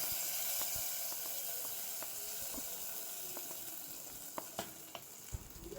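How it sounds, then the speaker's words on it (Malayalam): Mustard seeds tempering in hot oil for sambar in a Kerala home kitchen, a steady close sizzle with scattered sharp pops and crackles growing more frequent toward the end. "സാമ്പാറിൽ കടുക് വറുത്തു."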